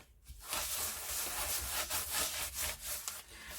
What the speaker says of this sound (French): Vous voyez, là, je gratte.